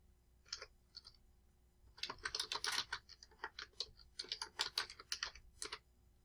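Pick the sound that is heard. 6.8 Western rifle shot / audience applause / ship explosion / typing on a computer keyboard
typing on a computer keyboard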